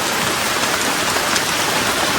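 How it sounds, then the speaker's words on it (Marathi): Heavy rain pours down steadily, a loud, dense hiss of drops that stays constant throughout. "पाऊस लय खतरनाक आलाय नाही का"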